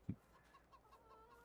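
Chickens in the farming game Farming Simulator 22 give soft, faint clucks, with one brief louder cluck at the start followed by a few quiet, evenly spaced chirpy notes.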